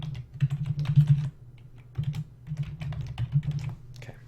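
Close keystrokes on a computer keyboard as a name is entered, coming in quick irregular bursts with brief pauses between, with no talking.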